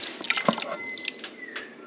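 Water is poured into a pot for boiling before cooking, a brief faint trickle with a few drip-like splashes, alone and close.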